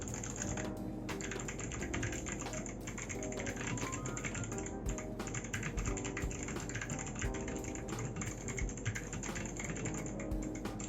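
Steady, dense typing on a Rover84 V3 mechanical keyboard with double-shot keycaps, a continuous run of close, crisp keystrokes with no talking over it.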